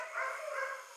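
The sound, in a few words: big dog Wookie barking inside the house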